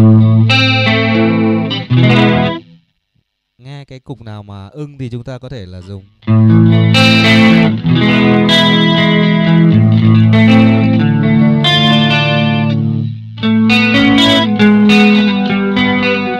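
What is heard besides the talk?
electric guitar with chorus effect on Zoom G1XOn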